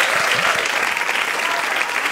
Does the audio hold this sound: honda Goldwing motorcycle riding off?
no